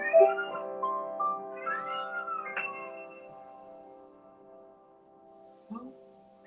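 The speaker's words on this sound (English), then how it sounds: "I had a cat yowling." A cat yowls in the background with long, wavering, drawn-out cries that slide in pitch, then fade, followed by one short sound near the end.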